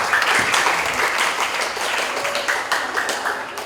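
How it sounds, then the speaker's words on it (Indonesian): A crowd at an elementary school graduation and farewell ceremony claps steadily and loudly for a student, a dense, even burst of applause filling the whole moment. "Kita beri aplaus untuk Yuda."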